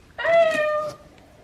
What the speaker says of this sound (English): So many cute cats everywhere.